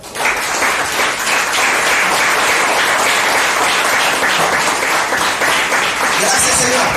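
A church congregation applauds continuously and loudly for the whole stretch, a dense even wash of many hands clapping with voices mixed in underneath.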